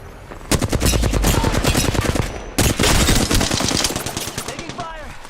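Rapid automatic gunfire from an Apex Legends match, loud and close, with dense bursts running nearly continuously, a brief gap partway through, then more sustained firing that thins out toward the end.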